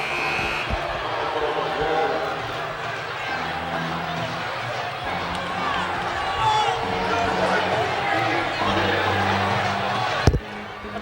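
A college basketball arena crowd at a conference semifinal between Southeastern Louisiana and Sam Houston State rumbles with sustained, agitated noise after a blocking foul call, with a sharp bang near the end and talk running beneath.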